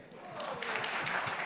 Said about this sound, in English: Applause for Girish.